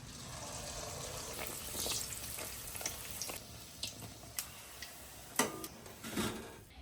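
Rolled naan dough frying in hot oil, a steady close crackle with scattered ticks and sharper pops as pieces slide in, one louder burst near the end.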